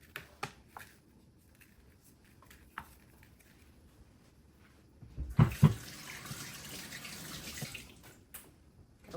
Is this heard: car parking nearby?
no